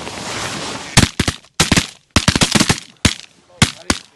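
Shotgun blasts from a group duck hunt in a snowstorm, a rapid volley of loud, sharp reports in quick clusters with brief gaps, close by and outdoors.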